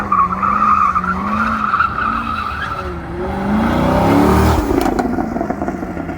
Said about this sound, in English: I'm actually mashing the throttle, trying to kind of drift and slide out the rear end.